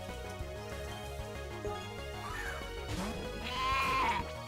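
The cry of a sheep Pokémon in the video game Pokémon Uranium, a synthetic bleating call rising over looping battle music, fairly faint in the mix and closing with a brighter wavering bleat.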